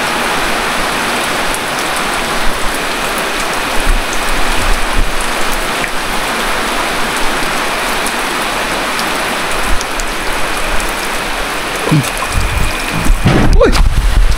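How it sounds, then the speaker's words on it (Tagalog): Heavy rain pounds down in a loud, constant roar, and a few brief voices and knocks break through toward the end. "lumakas pa ang ulan"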